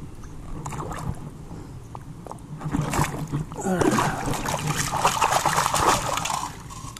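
A metal detecting scoop digs into shallow water, giving sloshing splashes and gurgling trickles that swell and continue for several seconds, with a voice speaking faintly at times.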